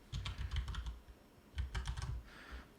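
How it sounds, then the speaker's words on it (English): Someone types a word into a search bar on a computer keyboard in two quick bursts of soft key clicks with a short pause between, close but quiet. "So basically typing Insider in the search bar"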